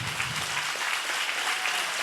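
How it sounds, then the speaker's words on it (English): An audience at a public speaking event breaks into steady, sustained applause, a dense wash of clapping with no break. "I want you to give her a round of applause"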